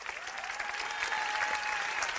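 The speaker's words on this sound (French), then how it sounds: "Est-ce qu'on peut applaudir ma maman?" An audience claps for the speaker's mother at a French motivational talk, with dense, even applause sustained at moderate volume throughout and no speech over it.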